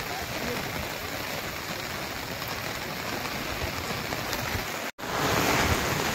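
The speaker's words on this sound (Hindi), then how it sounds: "नदीचा फ्लो वाढला आहे आणि आम्हाला हे क्रॉस करायचं आहे" Swollen river running fast near a waterfall in the rainy season at Pandav Kada, Kharghar, giving a steady, loud, broadband rush with no letup, briefly cut off near the end and then resuming.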